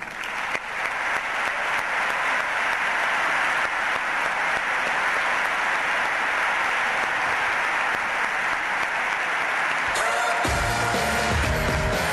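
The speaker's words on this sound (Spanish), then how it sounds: "un fuerte aplauso para Kevin Spacey" A large audience in Madrid gives sustained, loud applause as Kevin Spacey is welcomed, dense and continuous for about ten seconds before the clapping gives way to other sound.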